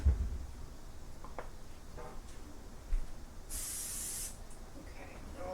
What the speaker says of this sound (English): So I'm going to spray this.